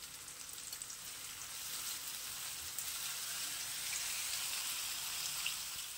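Spice paste being fried and stirred in a pan with four green chilies and salt for a Bengali koi fish curry, giving a steady, even sizzle throughout with no pauses.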